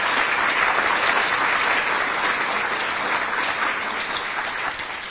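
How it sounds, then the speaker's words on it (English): Sustained, dense applause from an audience at a Holocaust remembrance ceremony in Cranford, New Jersey, steady and full throughout before tapering slightly at the end. "So let's give them another round of applause, please."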